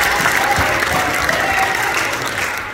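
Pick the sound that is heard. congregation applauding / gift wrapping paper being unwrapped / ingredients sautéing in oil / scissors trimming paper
congregation applauding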